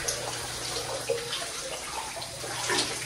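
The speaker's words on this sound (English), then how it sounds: "And I just filled a tub." A bathtub filling with cold water from the tap, a steady close rush of running water splashing into the tub, continuous and even with no talk.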